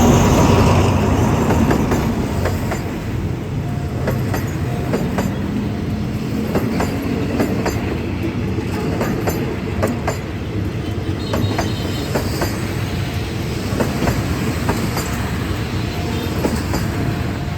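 A train hauled by a battery electric locomotive rumbles steadily past nearby in Bangkok, with rhythmic wheel clatter over the rails and occasional squeals, loud and continuous throughout.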